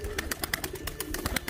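Arabian tumbler pigeons, a play-bird breed, call close by in a series of soft rhythmic coos and fluttery chirps, with no talking over them.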